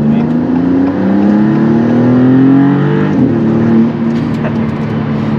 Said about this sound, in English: you hear the turbo spool right in your ear, because the engine's obviously right behind us